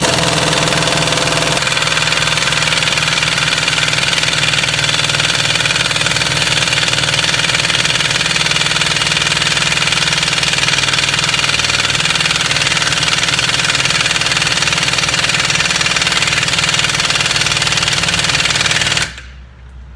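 An impact wrench hammers continuously on the lower control arm bolt of a 2006 Dodge Ram 2500 4x4 with a 5.9 Cummins, a loud, close rattling buzz that runs nearly the whole time before stopping abruptly.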